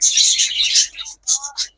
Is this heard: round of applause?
no